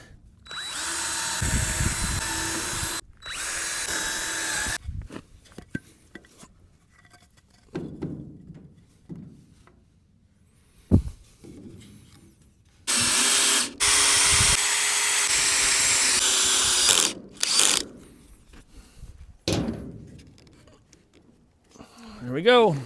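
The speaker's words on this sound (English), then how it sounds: "do a little pre-drill" Power drill pre-drilling holes in wood while building a mobile chicken shelter, with several whirring bursts of varying length separated by pauses, close and loud, and a person talking briefly between them.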